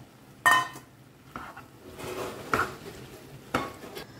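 A utensil scrapes and knocks against a pan while salted prawns are mixed for a prawns sukka, several distinct clanks at irregular intervals over a soft background.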